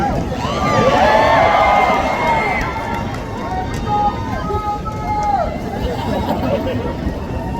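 A large concert crowd at a live show roars and cheers in a loud, continuous wash of voices that swells early and then holds steady.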